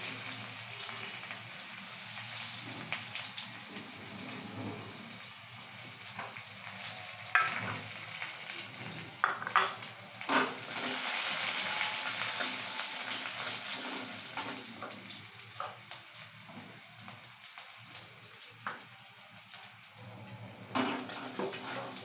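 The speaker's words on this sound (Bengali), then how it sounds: "পেঁয়াজটা ভাজা ভাজা হয়ে গেছে দেখুন" A long, steady frying sizzle of onions with occasional stirring and scraping in the pan, fairly quiet and close, with no speech.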